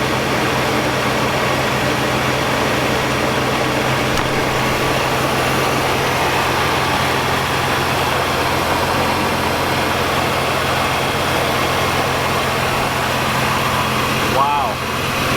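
A carbureted Oldsmobile Cutlass engine, revived after sitting since 2005, idles steadily and smoothly at close range with a constant low hum, running evenly throughout with no breaks.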